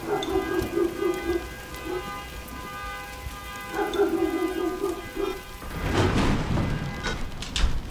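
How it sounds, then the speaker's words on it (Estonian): Heavy rain pouring steadily outdoors, a dense hiss of falling water that swells louder toward the end, with no talking. "õues oli nii kole ilm ja vihma sajab täiega"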